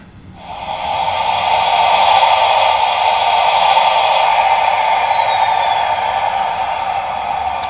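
A KR Models OO gauge English Electric GT3 locomotive's onboard sound file starts up, swelling within a second into a loud, steady hissing roar that holds to the end, with a faint high whine gliding downward partway through.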